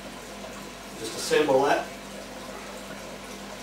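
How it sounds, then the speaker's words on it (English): Water runs steadily into a home-brewing vessel while a mash tun with a filter bed is assembled for a Vienna lager, with a short louder gurgling swell midway beneath a man's speech. "while the water is filling up there"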